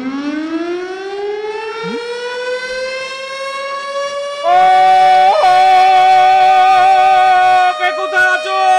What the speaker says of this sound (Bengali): লাল বাতি অন কর, সাইরেন বাজা